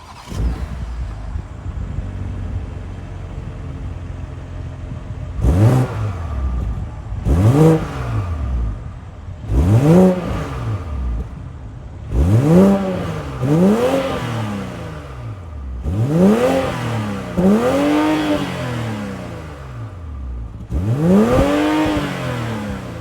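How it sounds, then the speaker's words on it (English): A 2023 BMW X5's 3-liter B58 twin-turbo inline six revving, repeated rising-and-falling throttle blips roughly every two seconds after a quiet idle, close and loud from outside. "let's fire up this 3-liter B58 inline turbo 6 and hear how she sounds"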